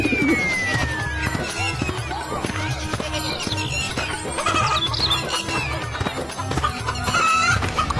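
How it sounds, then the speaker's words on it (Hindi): Large chickens cluck in a Hindi cartoon story, close and busy, mixed with background music and sound effects. "कलुआ, तू ये इतनी बड़ी बड़ी मुर्गी लेकर कहाँ घूम रहा है?"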